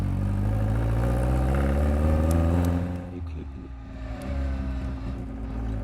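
A small car engine with straight-cut gears and no resonator revs loudly and close up, dips briefly, then climbs again in a raspy, mechanical whine.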